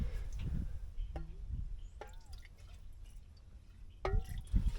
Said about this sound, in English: Oh, we're getting some fuel leaking there.